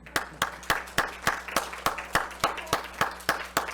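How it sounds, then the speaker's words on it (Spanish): An audience at an event applauds, heard as about a dozen evenly spaced sharp claps in a steady rhythm, moderately loud and with no talk over them. "ahora sí, hagámosle un aplauso ruidoso"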